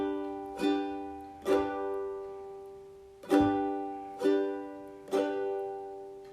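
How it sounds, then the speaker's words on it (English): Slow ukulele triplet strums, five separate down-up-down strokes spaced about a second apart, each chord ringing bright and clear before decaying, played alone with no talking. "it's a down, up, down. It's a little triplet strum."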